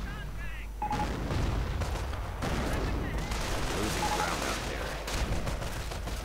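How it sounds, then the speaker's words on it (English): Mortar rounds firing in a World War II strategy video game, a dense stream of booming shots and distant blasts layered over continuous battle noise. "Mortar rounds continue."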